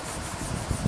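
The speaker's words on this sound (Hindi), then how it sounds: "और इसको घिस के चलाएंगे ऐसे" Soft pastel rubbed across paper while an abstract piece is worked, giving a faint, continuous dry scraping with slight swells in intensity, close up and without talk.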